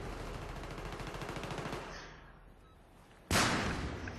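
Rapid automatic fire from a G36C assault rifle in Battlefield 3, a loud close rattling burst of evenly spaced shots lasting a couple of seconds, then a pause and a single sharp blast.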